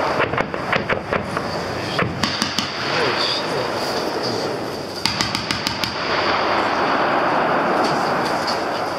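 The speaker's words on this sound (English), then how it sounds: "Machine gun should be picking up right now." Crew-served machine guns fire in a live-fire demonstration, with repeated bursts of rapid, loud rattling shots separated by short pauses and a steady background rumble across the whole stretch.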